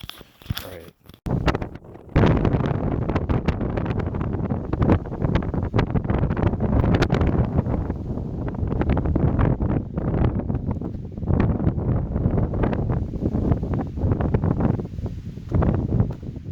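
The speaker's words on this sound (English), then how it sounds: "It's really windy." Strong wind roars steadily against the microphone, a loud continuous buffeting rumble with gusts, and no other clear sounds.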